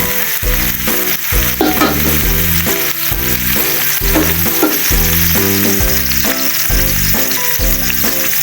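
Garlic and onion fry together in a pan until lightly toasted, a steady close sizzle under loud, rhythmic background music.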